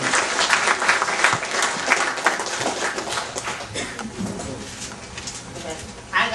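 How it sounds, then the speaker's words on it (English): Audience members at a music industry A&R panel event applaud loudly and densely in a lively crowd, with cheering and scattered voices mixed in and the clapping slowly easing off toward the end. "Give her a round of applause as we get this first A&R panel."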